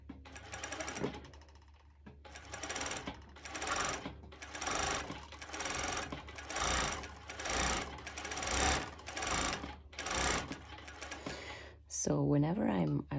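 A cover stitch sewing machine hums through bikini binding in about nine short bursts with brief pauses between, close and steady, and a voice is heard at the end.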